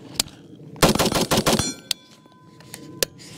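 Close, loud gunshots from a rifle fitted with a ruggedized light cap: a sharp opening shot, then a rapid burst of about five shots with ringing metallic tails, followed by a few single spaced shots.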